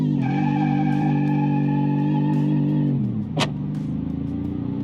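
A supercharged front-wheel-drive race car in BeamNG.Drive holds a loud, steady high rev with a whining harmonic tone. The pitch then drops sharply as the throttle lifts, and the engine settles into a lower idle-like drone.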